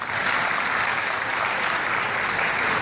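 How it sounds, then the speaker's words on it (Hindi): Steady applause from an audience, a dense wash of clapping that keeps going at an even level for the whole few seconds. "ताली हो जाना चाहिए।"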